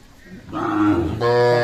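A dairy cow at a cattle market in Dinajpur gives a loud, close moo in two rising pulses, the second longer and fuller.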